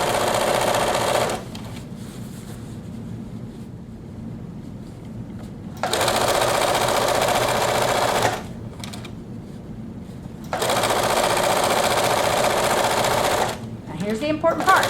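A sewing machine stitches the seam of an atikłuq hood in several bursts of rapid, steady whirring, separated by pauses, close and clear.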